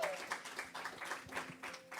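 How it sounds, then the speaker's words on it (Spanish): Applause from a church congregation welcoming a visitor during a service, a modest burst of clapping heard at a distance and somewhat faint, with a voice faintly present. "Con fuerte aplauso."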